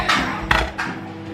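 A spoon stirs protein powder into about 50 ml of liquid, making three quick scraping clinks against the container, close and clear with no talking.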